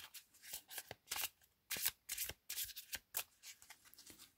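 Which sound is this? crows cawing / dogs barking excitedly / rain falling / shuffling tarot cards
shuffling tarot cards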